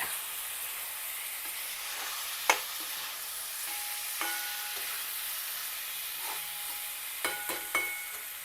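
Bitter gourd curry being stirred in a pan, with soft scraping strokes of a spoon over a steady sizzling fry, a few sharper clinks standing out now and then.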